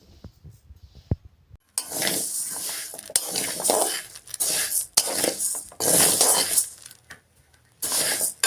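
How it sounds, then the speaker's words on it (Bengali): Sago pearls dry-roasting in a wok give off bursts of close, gritty rattling and scraping as they are stirred, separated by short quiet gaps. "প্রথমে সাবুদানাগুলো শুকনো কড়াইতে ভেজে নেব যতক্ষণ না পর্যন্ত সাদা সাদা হয়ে আসে।"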